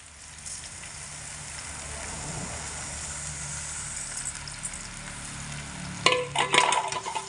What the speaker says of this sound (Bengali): এইভাবে হালকা হাতে নাড়াচাড়া করতে হবে